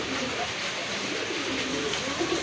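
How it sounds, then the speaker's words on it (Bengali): Pigeons offered for sale, including Chinese Owl pigeons, coo in low burbling phrases amid a busy, noisy market hubbub, moderately close and partly masked by the surrounding din. "আরেক জোড়া কবুতর এটা হচ্ছে আপনার চাইনিজ আউল"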